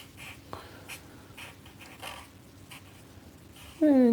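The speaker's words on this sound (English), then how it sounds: "I'm using a chisel tip marker here." Chisel tip marker laying dark grey colour onto paper while drawing a vehicle: quiet, repeated scratchy squeaking strokes in short bursts, with a brief louder squeak near the end.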